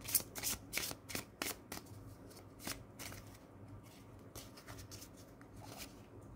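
Everyday Witch Oracle cards are shuffled by hand in a burst of quick riffles and taps, louder at first and then softer, with no talking.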